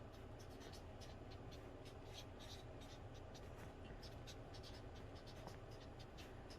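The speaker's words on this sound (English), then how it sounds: "going to write down the person's name 9 times downwards" Pen scratching across paper as a name is written out by hand, a steady close scritch of strokes running throughout with small pauses between letters.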